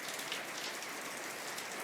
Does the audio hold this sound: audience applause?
no